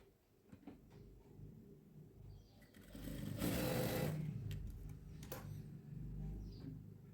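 A sewing machine stitches a saree blouse in one short, faint run of whirring that rises and fades in the middle, with quiet handling noises around it.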